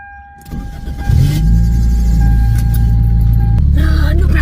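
A car with broken power steering starts up and settles into a loud, steady engine drone that shifts pitch as it pulls away, with a brief higher whine and a tone at the start.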